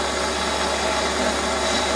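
A drill boring a hole about 85 mm deep, ten times the bit's diameter, for a fire piston: a steady, loud, continuous machining whir with a low motor hum and no break.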